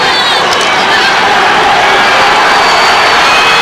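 Crowd at a 1996 Michigan high school Class B football final cheering in the stands, a steady broad roar of many voices filling the whole moment, loud and continuous with no single voice standing out.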